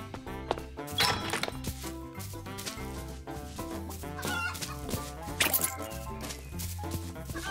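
Chicken clucks from a video game play over a busy, steady game music track, with no talking.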